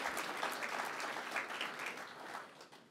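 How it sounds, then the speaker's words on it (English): A short burst of applause from a crowd, steady clapping that fades slightly at the end. "a little round of applause for LIPA"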